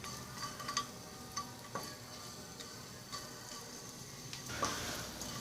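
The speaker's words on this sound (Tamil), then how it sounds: "இப்போ எண்ணெய் காஞ்சோடனே பெருங்காயம் போட்டுக்கலாம்" Asafoetida fries in a spoonful of hot oil, a soft, steady sizzle broken by light crackles and small ticks, heard close but quiet.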